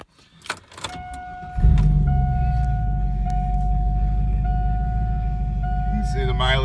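Chevy engine starts as the driver climbs in: a door thud and rustling give way to a loud steady idle with a low rumble, and a chime tone pulses over it throughout.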